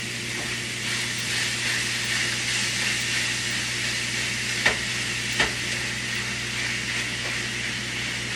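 Taco meat sizzles steadily in a pot, a constant loud frying hiss with a couple of sharp clinks of a spatula, and almost no talking.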